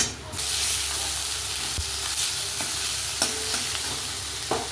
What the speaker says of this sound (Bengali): পেঁয়াজটা ভাজা হয়ে গেছে এতে একটু আদা বাটা দিয়ে দিচ্ছি